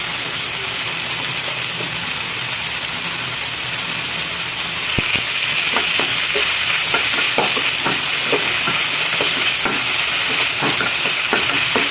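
Onions frying with salt in a pan for onion rice give off a loud, steady sizzling hiss, with light stirring scrapes and clicks scattered through the second half and no talking.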